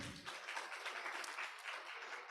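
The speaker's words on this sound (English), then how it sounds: "Big round of applause for Rishi." An audience claps at a talk on Jainism and the environment, a dense, fairly quiet patter of hands held steady for a couple of seconds.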